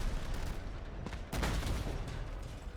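Weapon shots from a vehicle in Crossout, a few heavy blasts rising out of a dense, loud roar of engine and battle noise.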